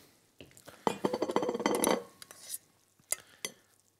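A spoon clinks and scrapes against a plate while soft mashed potato purée is spooned onto it in a kitchen, a busy clatter of cutlery and dish sounds followed by a few sharp isolated taps.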